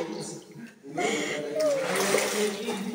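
Water splashing in a cave stream as people wade through, a close burst of splatter and sloshing under excited voices and shouting.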